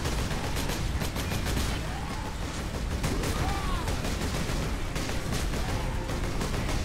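Gunfire in the video game Warhammer 40,000: Space Marine, dense continuous rapid shots and bursts in a loud, sustained battle din with no pauses.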